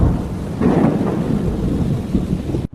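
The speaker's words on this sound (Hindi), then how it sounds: "बहुत तेज बारिश होने लगी" Steady heavy rain hisses and rumbles continuously, with a deeper swell of downpour partway through before cutting off abruptly.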